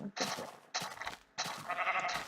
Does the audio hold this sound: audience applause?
no